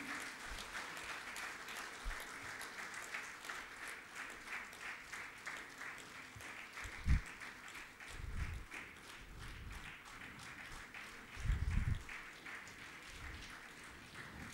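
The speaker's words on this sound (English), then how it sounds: "a bigger and more enthusiastic round of applause for them" Conference audience applauding the panelists, sustained clapping from many hands across the whole stretch, with a few louder thumps mixed in.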